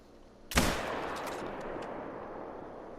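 A single loud shot from a .270 hunting rifle in a whitetail deer hunting game cracks sharply, then a long rumbling echo fades slowly over the next few seconds.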